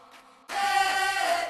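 A sample of a song, stripped of its drums and drenched in reverb, begins with a faint washy tail, then a loud, sustained, smooth chord blooms and holds without percussion.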